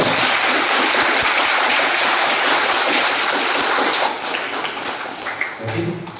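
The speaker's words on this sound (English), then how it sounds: "clap for them" A crowd claps steadily for the teachers at a school Youth India Parliament event. The sustained, dense applause fades and thins toward the end, with faint voices underneath.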